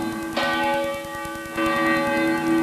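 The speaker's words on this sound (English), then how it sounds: "In the early days at Good Shepherd, the bells, St. Michael and St. Gabriel, provided the only music for the congregation." Two church bells at Good Shepherd in Toledo, the larger St. Michael in the north tower and the smaller St. Gabriel in the south tower, ring out in two loud, resonant strikes whose tones hang and overlap without any voices.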